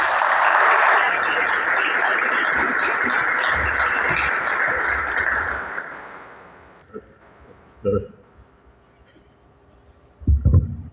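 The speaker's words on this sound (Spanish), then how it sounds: "Con un aplauso damos la bienvenida al ingeniero Néstor Trujillo" An audience applauds to welcome engineer Néstor Trujillo as he comes to speak, a loud sustained ovation lasting about six seconds before tapering off, followed by scattered bumps and handling noises.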